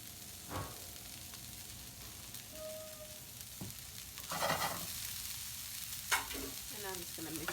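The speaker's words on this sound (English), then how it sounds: "And I'm just gonna mix that together." Herbs and salt with olive oil are stirred together in a bowl for a Mexican chili blackened mackerel, making a few soft, scraping swishes at uneven intervals against a quiet background.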